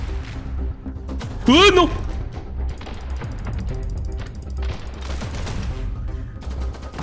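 Gunfire in The Hong Kong Massacre video game crackles through a busy game mix, with a short sharp burst partway through and someone talking over it.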